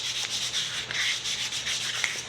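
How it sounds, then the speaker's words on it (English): Quiet, rhythmic strokes of sandpaper lightly sanding a CNC-carved wooden spoon, repeated back and forth at close range. "I'm going to just do some light sanding on the whole thing just to make it nice"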